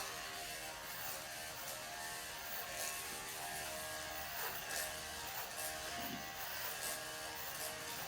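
Electric clippers buzz steadily and quietly as they trim the hair of a belted show pig, a low, even mechanical drone with no talking.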